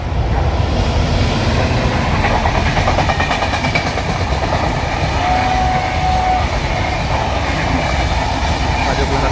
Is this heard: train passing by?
yes